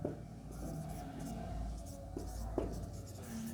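Chalk or marker writing on a classroom board during a Class 9 physics lesson, steady scratchy strokes running throughout under low room noise, with no talk.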